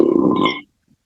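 A single quick, forceful sneeze burst lasting under a second, followed by near silence.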